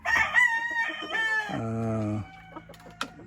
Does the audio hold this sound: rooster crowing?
yes